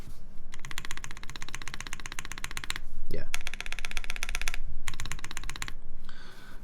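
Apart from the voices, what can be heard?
typing on a custom 7V mechanical keyboard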